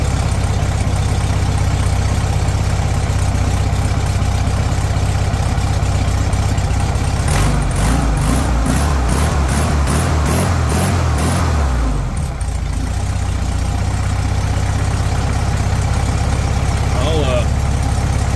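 A Volkswagen Super Beetle that has not run in a long time idles steadily and loudly up close, with a brief burst of higher revving partway through before settling back to a smooth idle.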